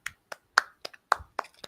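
Several sharp hand claps in an irregular rhythm, about seven distinct slaps over under two seconds, fairly close and crisp with short decays and no talking in between.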